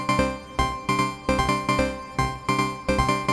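A semi-modular analog synthesizer plays a clean, unmodulated polyrhythmic pattern of plucky, decaying tones in a steady interlocking rhythm, close and alone with no voices.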